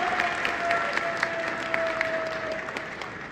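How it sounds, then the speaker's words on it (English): Audience applause at a CPAC conference hall, a sustained crowd clapping with distinct sharp hand claps popping out of the steady roar, moderately loud and fairly close. "Give a round of applause."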